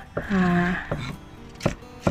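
A very sharp special Balinese knife chops ginger and galangal on a board, making a few crisp, separate knocks while a voice briefly speaks nearby.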